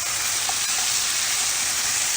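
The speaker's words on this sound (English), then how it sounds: "stirring that up" Vegetables with cooked lentils and quinoa sizzle and hiss steadily in a pan, a close, bright frying sound with faint scrapes of stirring.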